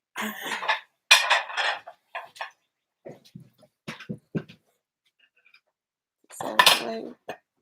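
A small plate and cutlery handled for serving a homemade Mother's Day cake, scattered clinks and clatters in short bursts with brief pauses, mixed with some quiet talk.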